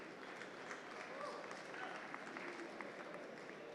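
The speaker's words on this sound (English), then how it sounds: "Let's give Street Runner a round of applause." A conference crowd at a startup pitch competition applauds the third place winner, a soft, distant wash of clapping with faint voices mixed in, steady for a few seconds.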